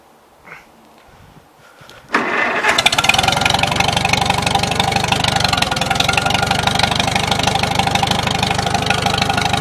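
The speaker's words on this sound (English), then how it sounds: "Now it's running with the choke pull on." A 1953 Farmall Super H tractor engine catches after a quiet moment and then runs loud and steady with the choke pulled, giving a continuous rough mechanical roar close by.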